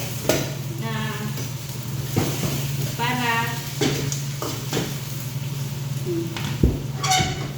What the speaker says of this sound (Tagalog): So kunting gisa-gisa lang ng kaunti.